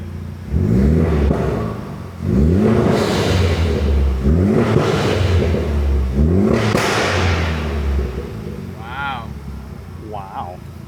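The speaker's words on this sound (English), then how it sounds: "you can kind of hear the vehicle where it's kind of rough and then it kind of clears up" A Honda S2000 fitted with a Type R engine swap idles roughly in repeated uneven surges, fairly close and loud, then settles and steadies; the rough running comes through alone with no talk over it.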